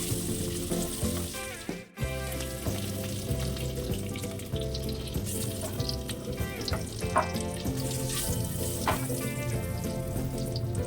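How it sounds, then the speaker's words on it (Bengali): Hard-boiled eggs frying in hot oil in a kadai, with a steady dense sizzle and crackle running throughout, close and fairly loud, one brief dropout near the start and no talking. "তেলটা খুব ভালো করে গরম হয়ে গেলে এর মধ্যে দিয়ে দিচ্ছি সেদ্ধ করে রাখা ডিমগুলো প্রায় 5 থেকে 7 মিনিটের মতন প্রায় লালচে করে ভেজে নেব"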